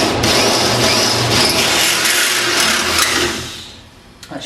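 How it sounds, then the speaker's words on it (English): A power drill whirs and grinds steadily for about three seconds, then winds down and stops; no one speaks. "Keeping your drill nice and straight."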